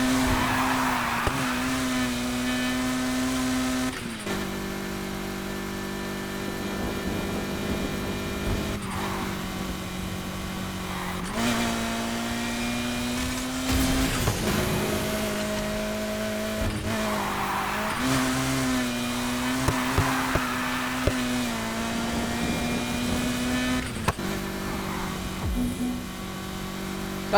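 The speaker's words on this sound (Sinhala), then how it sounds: "මේ කාර් එක සුපිරිය ඩ්‍රිෆ්ට් කරනවා" Engines roar and tires squeal continuously as cars race and drift through a three-lap online race in Need for Speed Heat, a loud steady engine drone with pitch sweeps as the car shifts and slides.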